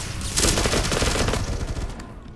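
A player's weapon fires continuously in the VR shooter Larcenauts, a loud, dense rapid-fire burst of shots that fades slightly toward the end, with no talking.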